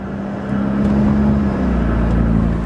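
A BMW F30 cruising and shifting gears, a steady close engine drone that swells partway through and settles into a lower hum after a quick shift.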